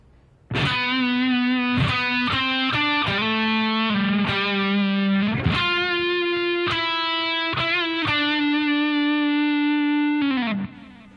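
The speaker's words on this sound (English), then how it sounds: "let's take a look at this solo in G Mixolydian" A distorted bass guitar with effects plays a solo phrase in G Mixolydian, sustained notes sliding and shifting pitch, loud and alone with no talking for about ten seconds.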